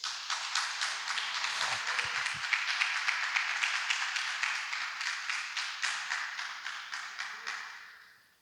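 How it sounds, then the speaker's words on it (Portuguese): A church congregation applauds after a closing prayer in a sermon, with dense steady clapping over about eight seconds that thins out and fades at the end. "Você pode aplaudir o Senhor?"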